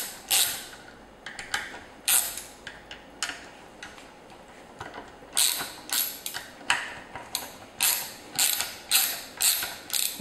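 Wrench loosening the camshaft cap nuts on a BMW E36 M3 S52 engine, giving a close series of sharp ratcheting clicks in irregular bursts, with quieter gaps between and denser clicking toward the end.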